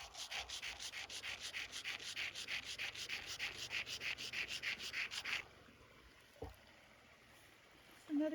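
Hard pigment rock rubbed on a surface gives a close, steady scraping with quick repeated strokes for about five seconds, then stops, leaving a quiet pause broken by a single knock.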